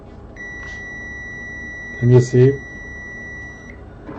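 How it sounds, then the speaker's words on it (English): A multimeter in continuity mode emits a steady high electronic beep for about three seconds while testing a shorted capacitor on an iPhone 6 board, with a brief spoken question partway through. "continuity mode so you can hear the beep"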